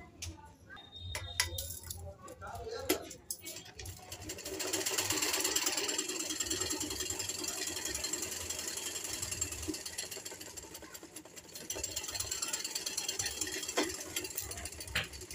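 An electric sewing machine whirs in long steady runs as it stitches lace onto suit fabric, broken by short pauses and clicks from handling the cloth. The sound is close and moderately loud.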